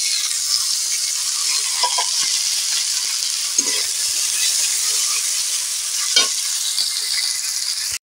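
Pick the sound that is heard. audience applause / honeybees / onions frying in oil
onions frying in oil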